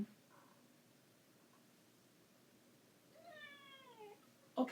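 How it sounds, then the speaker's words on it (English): A single faint meow rises and falls from a cat in a quiet room, followed by a brief soft tap. "You cannot be meowing at my door and you don't come in."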